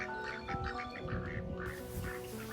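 Pet ducks quack repeatedly by a farm fence, a run of close, fairly loud calls in steady bursts over outdoor background noise.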